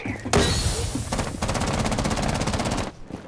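Gunfire in Rainbow Six Siege hammers at a Mute jammer in a long, rapid automatic burst. The shots are loud and close, lasting a few seconds before cutting off.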